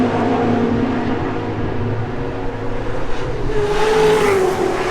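Ford race cars driving on a track at a GTI Challenge race, engines droning and revving as cars pass at moderate distance, rising toward the end.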